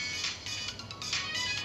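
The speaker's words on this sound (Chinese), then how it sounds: "我先接个电话啊" A telephone rings in an indoor scene, a faint electronic ringtone pulsing in short repeated bursts with no talking.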